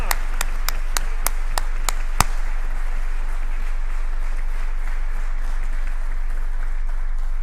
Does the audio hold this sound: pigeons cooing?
no